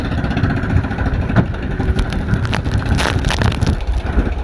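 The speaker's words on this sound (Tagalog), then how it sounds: "Pero lakas ang alon mga master at saka hangin." Strong wind buffets the microphone at sea off the northwest Philippines aboard a boat in big waves, a loud continuous roar with rushing water and irregular gusts.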